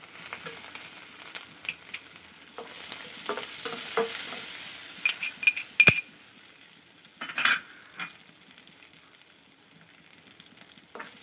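Onion and curry leaves sautéing in a pan for a green broad bean stir fry, a quiet steady sizzle broken by spoon scrapes and clinks against the pan, close by, without talk.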